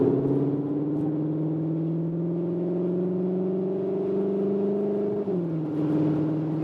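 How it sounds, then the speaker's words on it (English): Cupra Leon ST plug-in hybrid engine pulling hard in Cupra mode, a steady rising drone climbing in pitch for about five seconds before a brief dip at a gear change, heard from inside the cabin with no talk. "we go to the Cupra mode and accelerate out here"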